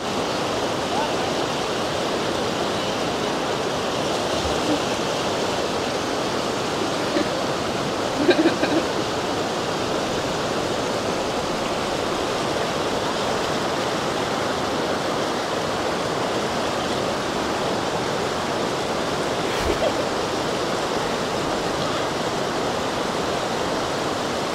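Mutum waterfall in Presidente Figueiredo, Amazonas, Brazil, gives a steady, even roar of rushing water that runs unbroken and fairly soft, with only faint occasional knocks.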